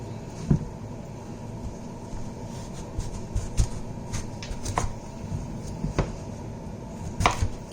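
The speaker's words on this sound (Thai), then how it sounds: "ทีนี้เราก็จะมาหั่นมันกันนะคะเพื่อน" A knife chopping steak on a cutting board in a kitchen, irregular knocks and cuts at close range over a steady background hum.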